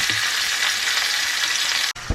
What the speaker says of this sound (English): I'm going to go ahead and flip this over and let the other side sear the same way